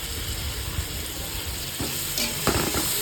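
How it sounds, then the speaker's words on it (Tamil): Onions frying golden in ghee for chicken biryani make a dense, continuous close sizzle, with a couple of louder stirring scrapes toward the end. "நெய் ஊற்றி நல்லா பொன்னிறமாக வதக்கிக்கலாம் வெங்காயம் நல்லா பொன்னிறமாக வந்துடுச்சு"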